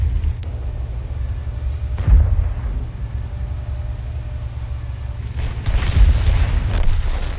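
Tank cannon fire in a tank video game: a deep boom bursts out near the start, followed by another heavy blast and rumbling explosion later on, set against a low continuous engine drone.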